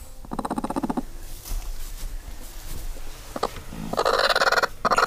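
Broody hens in a chicken coop give low, purring clucks and brief squawks in short bursts, close by, with soft rustling between calls.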